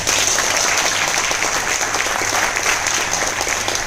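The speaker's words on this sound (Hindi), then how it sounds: "एक बार जोरदार तालियां।" A dense, steady burst of applause from a crowd at a meeting fills the whole stretch, loud and unbroken.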